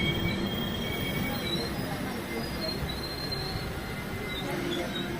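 A train overtakes and passes on the rails of the Rishikesh–Chandausi line, with continuous rumbling wheels and high, thin wheel squeals drifting in and out. The train noise holds steady throughout at moderate level, and faint voices sit beneath it.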